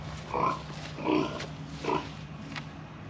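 A pig at a pen under construction gives three distinct low grunts, spaced about a second apart, fairly close and moderately loud over a faint background hum.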